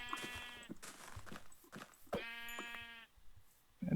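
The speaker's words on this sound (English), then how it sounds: "Come here, sheep." A sheep in Minecraft bleats twice, clear and close, each call a wavering nasal tone, with soft footstep-like thumps in between and no talking.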